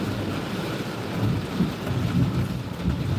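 Steady rain patters over a low rumbling background, with no voices.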